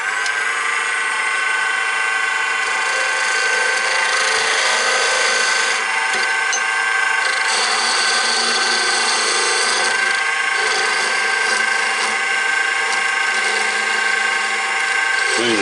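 Wood lathe turning and trimming a wooden bottle jig with sharp knives, giving a loud continuous high whine and scraping hiss that holds steady for the whole stretch.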